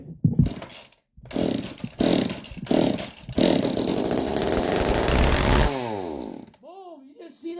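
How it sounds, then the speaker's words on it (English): A small two-stroke McCulloch Mini Mac chainsaw revs in several loud bursts, then runs steadily before sputtering and dying as it runs out of fuel, with brief voices near the end. "They're a reliable chainsaw."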